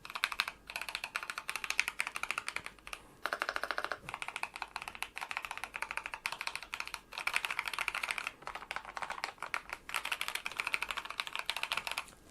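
Typing on a Skyloong GK980 keyboard with lubed Gateron Yellow optical switches, a fast close run of soft, muted keystrokes in bursts with brief pauses.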